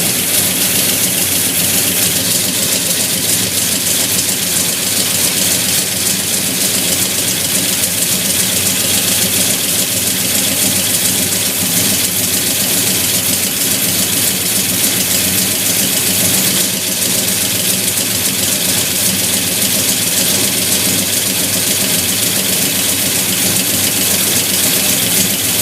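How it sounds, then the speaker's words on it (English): A 1967 Pontiac GTO engine idles with a freshly replaced Edelbrock carburetor, a loud, steady, close rumble that stays unbroken with no voices. "That's the first time she started since we replaced the carburetor."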